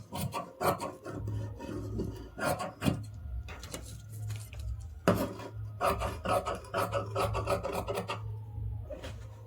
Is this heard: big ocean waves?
no